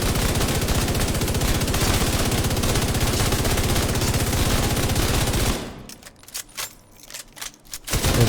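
An MG5 light machine gun in The Division 2 video game fires a long, loud, dense sustained burst for over five seconds, followed by quieter clicks and mechanical reload clatter.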